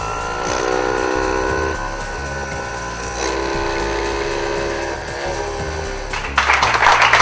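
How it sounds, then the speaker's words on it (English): A flywheel spins up to speed as a gimbal motor actuates together with it, a steady loud mechanical whir with grinding, ratchet-like tones that holds evenly and then turns rougher and more clattery near the end. "So we're going to spin up the flywheel to speed, and then we're going to actuate the gimbal motor simultaneously."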